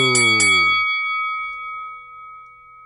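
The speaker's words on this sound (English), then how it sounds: "Ring that bell." A bright bell rings twice in quick succession, then a single clear tone lingers and slowly fades over a couple of seconds.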